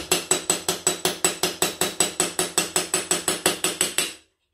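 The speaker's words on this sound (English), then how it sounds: "find a place to put a big knife and gently tap it with the hammer." About twenty sharp metallic taps in a steady, quick rhythm, a hammer striking a big knife during an Ansonia clock restoration, each with a brief ringing decay before stopping.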